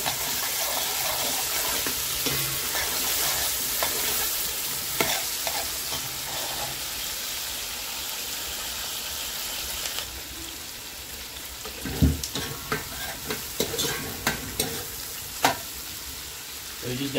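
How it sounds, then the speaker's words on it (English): Onion frying in a pot for a duck curry, with a steady loud sizzle throughout and scattered stirring clatter and scraping toward the end. "Got onion frying up there."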